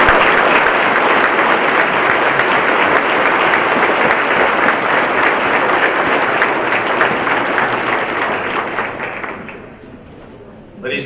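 Sustained applause from a large conference audience at a transportation summit in Orange County, honoring the mayor of Los Angeles; steady, dense clapping for about ten seconds that thins and fades near the end.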